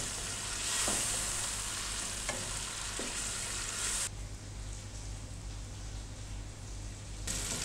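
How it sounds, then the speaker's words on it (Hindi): Beef with tomatoes, salt, red chilli powder and green chilli frying over a medium flame in a karahi makes a loud, dense sizzle. A few stirring scrapes cut through it, and the hiss briefly thins partway through. "गोश्त को हमने 4 से 5 मिनट मीडियम फ्लेम पर भून लिया।"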